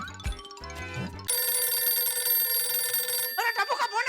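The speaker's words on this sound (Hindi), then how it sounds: "अरे टप्पू का फोन आया" A telephone rings with a steady electronic tone held for about two seconds, preceded by music and followed by a short burst of voice or sound effects.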